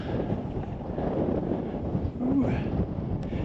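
Wind gusts across an open desert on a cool day and buffets the microphone with a continuous low rumble that swells slightly near the end.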